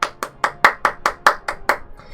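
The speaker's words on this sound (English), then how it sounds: "Big round of applause for Y.O.S.O." Steady, rapid claps, about nine sharp even beats close by, as a Dota 2 inhouse guest is applauded, with no voices between them.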